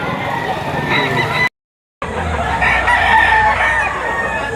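Rooster crowing at a live chicken market in Lipa, Batangas, heard amid crowd noise and chatter, cut by a brief gap of silence before the noise resumes.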